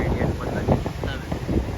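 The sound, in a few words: strong wind at the sea shore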